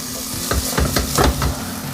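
Homemade fries for fish and chips sizzle steadily in hot oil, close and bright, with soft stirring or shaking bumps adding a few rhythmic thumps.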